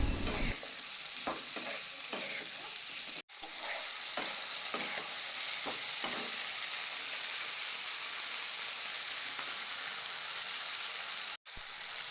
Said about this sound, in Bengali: তার মধ্যে দিয়ে দেবো বড় বড় করে কেটে রাখা পেঁয়াজ, ক্যাপসিকাম ও টমেটো